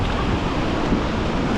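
Ocean waves washing onto a quiet, nearly empty beach, a steady wash of surf with wind noise over the microphone, continuous and fairly loud.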